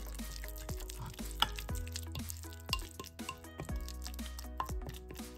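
Avocado toast ingredients being stirred in a bowl, faint scraping and soft wet clicks of a utensil in an irregular rhythm, quiet and close.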